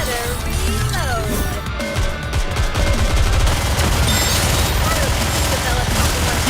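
Rapid gunfire and booming blasts from the NIKKE video game, loud and continuous, with game music and character voice under the shooting.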